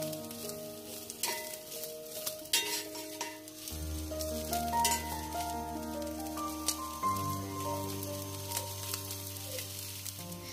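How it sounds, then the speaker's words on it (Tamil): Anchovies frying in a pan with onion, green chili and curry leaves give a steady hiss and crackle, with intermittent stirring clinks and a tonal hum running underneath, with no talking. "நெத்தலி கருவாடு நல்ல பொன்னிறமாக வந்ததுக்கு அப்புறமாக வெங்காயம், பச்சை மிளகாய், கருவேப்பிள்ளை இதெல்லாமே சேர்த்து நல்லா வதக்கி கொள்கிறேன்."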